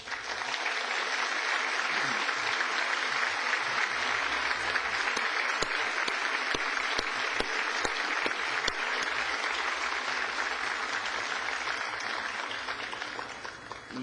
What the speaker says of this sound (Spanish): quiero que este público le tribute un caluroso aplauso